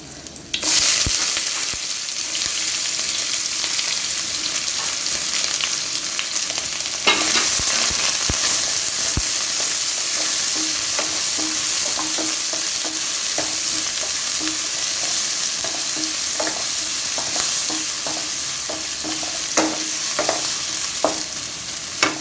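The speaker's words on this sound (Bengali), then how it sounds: "এখানে আমি প্রথমে তেল দিয়েছি, তারপরে গরম মশলা দিয়েছি, দারচিনি, এলাচ, লবঙ্গ এবং তেজপাতা।" Whole garam masala spices (cinnamon, cardamom, cloves and bay leaf) fry in hot oil for a country chicken and potato curry. A loud, continuous close sizzle runs throughout, with scattered clicks and scrapes from stirring and no voices.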